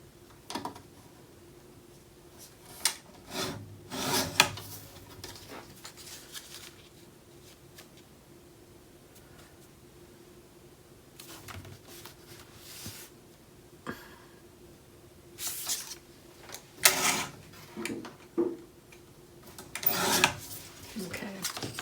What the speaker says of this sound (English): We'll trim that off a little bit.